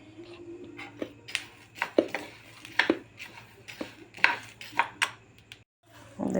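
Pumpkin seeds dry roasting in a pan, stirred with a utensil, giving irregular close clinks, scrapes and rattles against the metal surface, some sharp and some soft, over a low steady hum.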